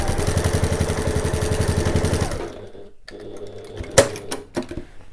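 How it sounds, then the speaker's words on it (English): A sewing machine stitches the side seams of a canvas tote in a fast, even run of close, loud stitches for about two seconds, then stops, leaving a few soft handling knocks. "I'm just going to go back over my side seams where my tabs are, just to make sure that's nice and strong."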